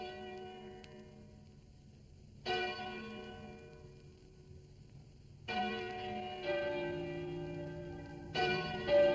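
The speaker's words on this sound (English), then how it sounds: "I wonder why the church bells are ringing." Church bells peal in a fogbound village, pulled by hand at the church, ringing in bursts of rich overlapping tones that swell, fade into near silence, then clang again several times.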